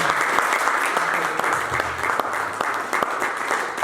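A church congregation claps together in a steady, dense round of applause that fills the room, with faint voices mixed in.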